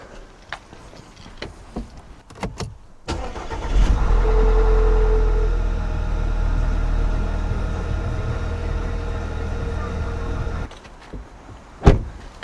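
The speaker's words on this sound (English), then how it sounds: "let's go start this engine" An Audi engine, just fitted with a new timing chain, cranks and catches after a few clicks, then runs at a steady, close idle for about seven seconds before shutting off, followed by a sharp knock.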